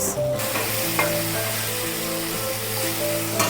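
Ginger and onion spice pastes fry in hot oil with turmeric for a Bengali fish curry, giving a steady, close sizzle. A spoon scrapes the pan briefly at the start and end.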